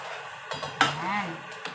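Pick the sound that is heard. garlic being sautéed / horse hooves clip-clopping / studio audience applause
garlic being sautéed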